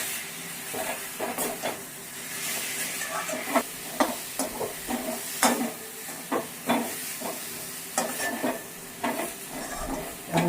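A spoon stirs raw banana curry in a pan after yogurt is added, producing repeated scraping strokes and clacks against the pan over a soft sizzle, close and fairly clear, with no talking.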